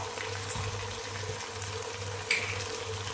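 Masala of clove-cinnamon powder, red chilli powder and coriander powder frying in a pan for Kadapa-style mutton biryani, a steady soft sizzle with a low hum running underneath throughout.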